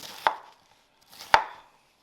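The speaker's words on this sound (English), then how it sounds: "So now I'm just going to rough chop this up." Two sharp knife chops land on a cutting board, each a crisp close thud with a short scatter of food rattling after, separated by about a second of quiet while corned beef brisket is rough chopped.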